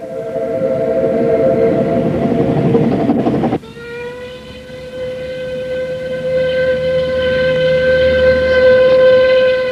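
A steam locomotive on the Ffestiniog Railway, built in 1863 and still running on its original line, rumbles loudly up close, then a long sustained steam whistle sounds over the chugging train.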